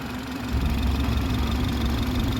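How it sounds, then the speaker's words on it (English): A 2018 BMW X3 with a 2-liter turbo engine and front-end collision damage idles nearby, a steady low droning hum with a constant mid tone, stepping up slightly in level after a moment. "This vehicle comes with a 2-liter turbo engine"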